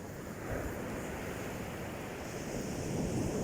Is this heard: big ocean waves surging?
yes